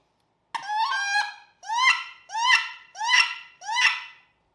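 Five squealing, rising wood duck calls made on a reed duck call, imitating a wood duck sitting on water; the first is a longer stuttered note, then four evenly spaced sharp whistles, close and loud in silence.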